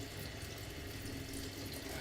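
Water runs steadily from a kitchen tap to wet a knife while slicing soft feta for a Greek salad. The stream is a constant, moderately close hiss with no talk over it.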